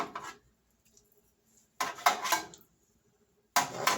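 A spoon bastes a garlic prime rib roast in a pan with short bursts of metallic scraping and splashing, separated by quiet gaps; nobody talks.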